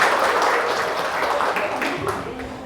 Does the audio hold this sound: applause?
yes